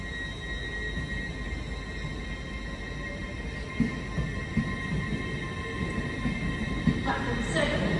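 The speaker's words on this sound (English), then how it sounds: "Passing out now is the 1726 LNER service from Edinburgh to London King's Cross." An LNER passenger service from Edinburgh to London King's Cross passes out of Newcastle station: a steady, moderate rolling rumble with faint wheel squeal and brief clanks near the end, a tonal hum running throughout.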